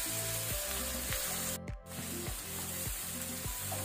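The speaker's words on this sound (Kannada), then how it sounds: "ಸ್ವಲ್ಪ ಲೈಟ್ ಕಲರ್ ಚೇಂಜ್ ಆಗೋ ತನಕ ನಾವು ಇದನ್ನು ಫ್ರೈ ಮಾಡ್ಕೊಳ್ಳುವ" Onions frying in a pan with salt for a chicken roast, a steady loud sizzle with periodic stirring scrapes of a spoon against the pan, no voices.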